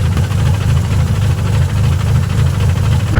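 Idling engine with an exhaust leak, a steady low rumble with a faint ticking flutter, close and continuous with no talk over it.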